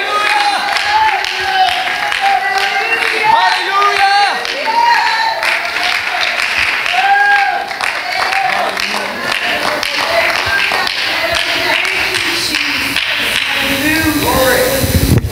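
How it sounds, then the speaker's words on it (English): A church congregation claps hands in praise during a Sunday morning service, a dense, steady patter of many hands that runs throughout, with voices and music sounding over it. "Let's give the Lord a hand clap of praise right now"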